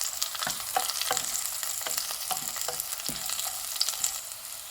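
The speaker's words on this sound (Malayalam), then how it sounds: "ഇനി ഞാൻ ഇതിലേക്ക് ഒരു പച്ചമുളക് നടുകെ ചീന്തിയത് ഇട്ട് കൊടുക്കുകയാണ്. ഇതും കൂടി ഒന്ന് നന്നായി വാട്ടിയെടുക്കാം." Onion and slit green chillies sauté and sizzle in a pan for prawn biryani, a steady close frying hiss punctuated by repeated spatula stirs and scrapes, no voices.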